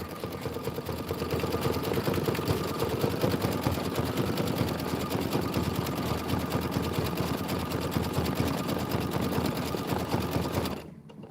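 An embroidery sewing machine stitches fabric over flexi foam with a fast, even, continuous mechanical whirr and needle clatter, close and steady for about eleven seconds before stopping abruptly.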